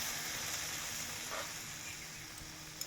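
Spice paste for a pabda fish curry sizzles softly in oil as water goes in, a faint steady hiss of frying close by with no talk.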